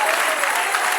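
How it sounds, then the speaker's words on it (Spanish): A church congregation bursts into dense, loud applause during a Spanish-language sermon, a continuous wash of many hands clapping close and steady for about a second. "Denle un aplauso al Señor"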